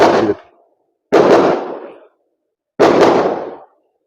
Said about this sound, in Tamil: அதுக்கு தான் பட்டாசு வெடிக்கிறாங்க